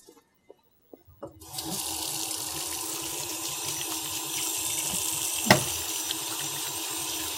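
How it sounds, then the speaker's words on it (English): Hands washed under a running tap before a clinical examination: a few soft clicks and a splash, then a steady close rush of flowing water that continues to the end, with no talking. "I'm just going to wash my hands"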